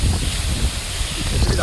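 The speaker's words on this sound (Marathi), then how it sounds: "खूप वारा आहे, जबरदस्त वारा आहे." Strong wind buffets the microphone near a waterfall, a steady low roar with rustling gusts throughout, while a person speaks over it.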